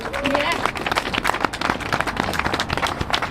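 An audience at a house meeting claps for a local councillor, a burst of scattered, uneven hand claps close by with crowd murmur and voices mixed in.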